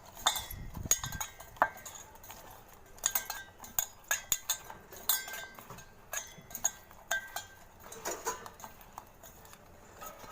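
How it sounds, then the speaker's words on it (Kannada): Potatoes being stirred and tossed with masala spice mix in a metal bowl or pan, with repeated light clinks and scrapes of a spoon against metal at an uneven rhythm, close by, no talking. "ಎಲ್ಲ ಆಲೂಗಡ್ಡೆಗೂ ಮಸಾಲ ಹೊಂದ್ಕೋಬೇಕು. ಆ ಥರ ಮಿಕ್ಸ್ ಮಾಡ್ಕೋಬೇಕು."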